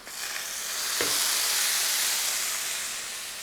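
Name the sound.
sizzling tempering of shallots and curry leaves poured into curry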